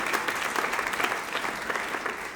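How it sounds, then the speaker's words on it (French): Applause from a church congregation during a French sermon on living in peace, a steady, dense spread of many hands clapping throughout, fairly close and even in level, with no talk over it. "Il y en a un qui commence à applaudir. Vous avez le droit de tous applaudir."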